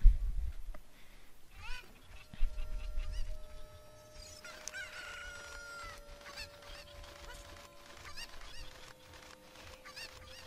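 Chickens cluck and squawk in the video game The Legend of Zelda: Ocarina of Time, with sharp fowl calls over game music and a sustained tone.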